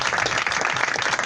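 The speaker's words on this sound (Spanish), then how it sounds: "Un aplauso para todos ustedes." An audience at a film pre-premiere claps in a brief, dense burst of applause, steady and fairly close.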